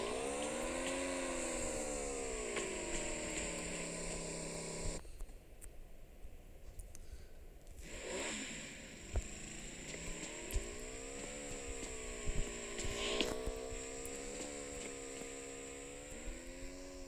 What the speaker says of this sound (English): a motorbike coming.